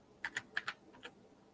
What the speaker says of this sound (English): I'm going to type it up.